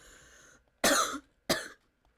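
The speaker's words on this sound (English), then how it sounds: "I've got a bit of a cough." Two sharp, loud coughs close to the mic, separated by a short pause, after a quiet stretch.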